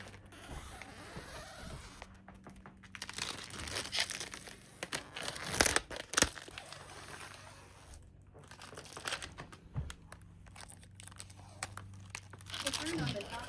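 Protective plastic film peeled and crinkled off a 75-inch Sony Bravia 9 Mark II television during unboxing, soft intermittent rustling and tearing under a steady background voice from the set's accessibility announcement.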